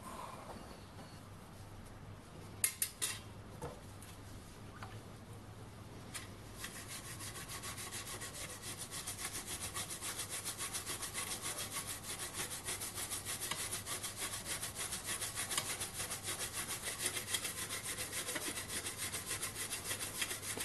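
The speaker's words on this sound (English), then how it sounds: "I'll get set up to do some scrubbing." A vintage test indicator is scrubbed by hand with a brush: after a few scattered knocks, rapid rhythmic rasping strokes continue steadily at close range with no talking.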